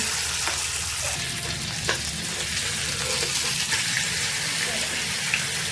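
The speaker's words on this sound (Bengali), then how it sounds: "মাছটা উল্টিয়ে দিলাম।" Tilapia frying in hot oil in a pan over low heat, a steady dense sizzle with a few soft knocks as the fish is flipped, fairly close and continuous.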